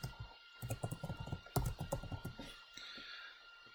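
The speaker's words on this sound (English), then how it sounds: "I'm having a hard time typing right now" Rapid clattering keystrokes on a computer keyboard, close by, in quick irregular bursts that thin out toward the end.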